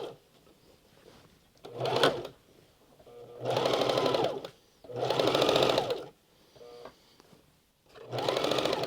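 Sewing machine hemming the felt lining of a traditional reindeer skin parka, running in several loud bursts of a couple of seconds each with short quiet pauses between them.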